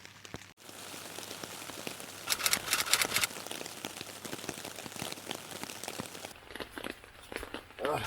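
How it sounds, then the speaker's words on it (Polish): Steady rain falling at a riverside campsite in Ponidzie during a kayaking trip, a dense, continuous patter on surfaces with brief louder drumming bursts, heard alone without voices. "No, pada deszcz niestety."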